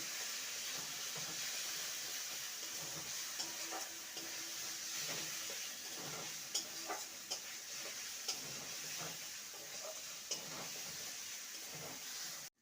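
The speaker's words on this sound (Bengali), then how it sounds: "যে গোবিন্দভোগ চালটাকে ভেজে রেখেছিলাম সেটা দিয়ে দেবো ভালো করে মশলার সাথে নেড়ে নেব" Fried Gobindobhog rice being stirred into sizzling masala in a pan, a continuous hiss of frying with intermittent scraping and clinking of the spoon against the vessel.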